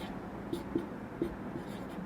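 A pen writing on paper: faint, quiet scratches and a few soft taps in short bursts over a low room hiss, with no talk.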